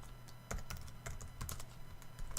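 Quiet key taps on a computer keyboard, a short run of light irregular clicks with brief pauses.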